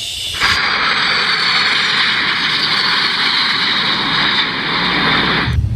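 Toy Airbus passenger plane in Etihad livery, a continuous steady whooshing engine-like roar that holds loud and even for several seconds, then stops abruptly.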